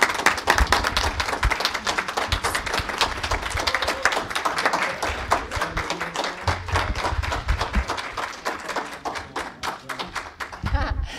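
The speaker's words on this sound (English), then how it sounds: "Can we have a round of applause for all the candidates?" Audience at a city council at-large candidate forum applauding the candidates, a dense, sustained clapping that stays steady and fairly close, then thins slightly near the end.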